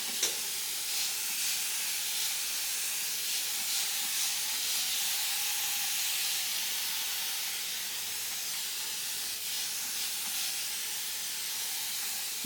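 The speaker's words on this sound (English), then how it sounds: "spray water." A spray bottle hisses water onto 4C hair during detangling, a steady close-up spray that continues almost without a break.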